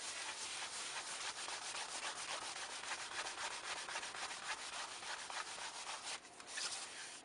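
Steady, close rubbing of wax being worked by hand onto the surface of an acrylic painting, a continuous dry swishing friction that holds evenly for the whole stretch with only a brief dip near the end.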